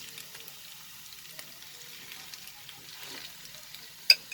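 Mashed potatoes fry gently in a pan over a low flame for chicken potato cutlets, giving a faint, steady sizzle with soft stirring scrapes and one sharp clink near the end.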